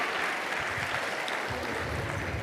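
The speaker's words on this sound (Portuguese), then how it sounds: "Recebemos então Dr. Marcos Eberlin, uma salva de palmas, nosso convidado especial do dia." An audience applauds to welcome Dr. Marcos Eberlin as the special guest of a talk, a steady wash of many hands clapping, heard from a distance at a moderate level throughout.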